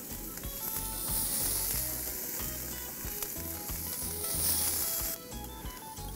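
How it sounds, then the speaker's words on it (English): Fresh mahi-mahi sizzles steadily on a hot grill over medium-high heat, cooked medium rare, a dense continuous crackle and hiss, close and loud, with no talking. "Now, off to the mahi-mahi, a simple grill, medium rare."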